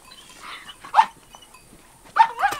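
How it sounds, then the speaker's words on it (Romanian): Hungry Carpathian shepherd dogs give sharp, close barks: one bark near the start, then two quick barks near the end, with quiet gaps between them. "Câini flămânzi ăștia."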